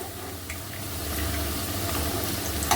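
Steamed cabbage vadi shallow-frying in a pan, giving a steady soft sizzle with faint crackles and a slight swell in level, no talking.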